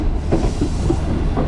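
Awan Express passenger train pulling into Attock Khurd railway station, a steady low rumble of wheels on track with faint squeals, heard close from on board.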